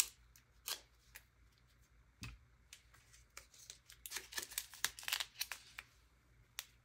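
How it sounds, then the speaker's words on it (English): Scissors snip through a plastic diamond art bead bag, a few faint scattered cuts and crinkles followed by a quicker cluster of snips and rustling near the end, close and quiet. "I brought down scissors so I wouldn't have to keep tearing that with my mouth"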